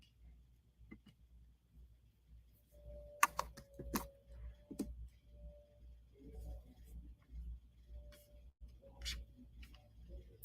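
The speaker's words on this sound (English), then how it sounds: "Let me just click over here." Faint computer mouse clicks, a handful of quiet sharp ticks scattered irregularly at a desk, with soft background hum and a few low vocal sounds in between.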